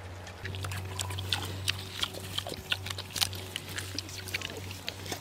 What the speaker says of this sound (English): he was biting into the apple